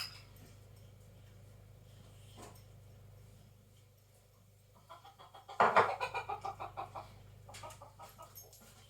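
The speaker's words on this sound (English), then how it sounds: "That's a cockerel in case you don't know." A cockerel crows once, loud and close, its call breaking into a series of pulsing notes that fade out over a quiet background hum.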